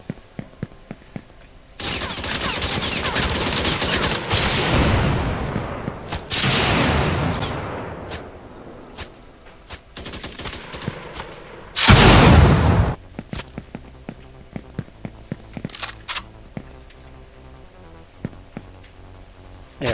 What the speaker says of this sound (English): Whoa, the shotguns are powerful, eh?